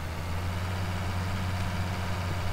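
Tractor engine idling in a farming video game: a steady low rumble with an even drone that holds throughout, close and continuous, with no voices.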